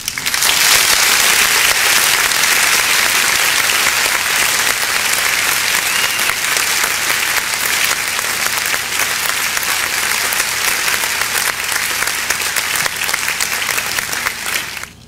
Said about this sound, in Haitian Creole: On applaudit la dernière fois